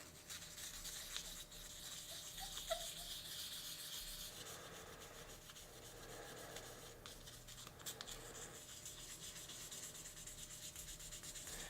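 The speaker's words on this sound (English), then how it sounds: "I'm going to do a little bit of wet sanding before I do my stripes" Steady rubbing and scraping of fine wet sandpaper against the painted body of a 1:32 scale Chevrolet Chevelle diecast model car, continuous strokes up close with small pauses, no voices.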